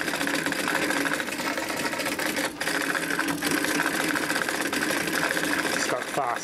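Cassette tape mechanism in a Sony HF cassette running in fast forward, a continuous whirring mechanical drone with a slight rattle, steady and close, briefly dipping twice before carrying on.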